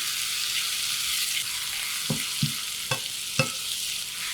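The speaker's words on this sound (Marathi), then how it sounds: "कांदा आणि टोमॅटो अगदी एकजीव होईस्तोवर हे परतून घ्यायचं" Onion and finely chopped tomato sautéing on a tawa for egg masala, a continuous bright hiss of frying with a few distinct spatula knocks and scrapes toward the end, no voices.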